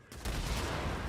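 A sustained rattle of gunfire from an inaccurate weapon in the zombie game Days Gone, running steadily and loudly for about a second over a low rumble, with no voices.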